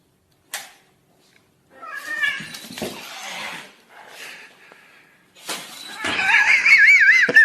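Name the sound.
cat meowing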